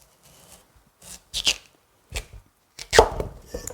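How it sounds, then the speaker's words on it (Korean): A kitchen knife cuts kohlrabi into pieces for vegan kkakdugi kimchi, with about five separate, crisp chops falling unevenly against a cutting board in a quiet room, the last ones louder. "훨씬 조금 넓게 썰으세요."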